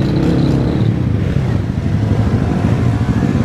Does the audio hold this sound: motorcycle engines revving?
yes